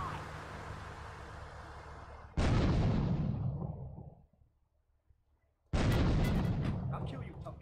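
Two heavy grenade explosions in GTA 3 boom out one after another, loud and close, the first rumbling off into a brief silence before the second blast hits.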